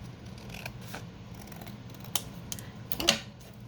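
Scissors snip through folded paper for a junk journal, close and quiet, with a few soft cuts and then two sharper, distinct snips near the end over faint room noise.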